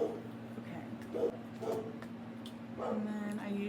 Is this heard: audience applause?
no